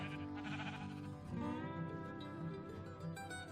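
Sheep in a Minecraft-style video game give repeated wavering, nasal bleats that overlap one another, loud and close, with no voices over them.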